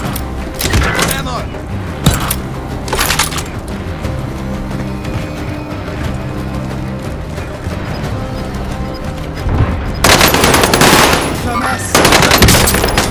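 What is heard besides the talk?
machine gun fire in Call of Duty: Modern Warfare video game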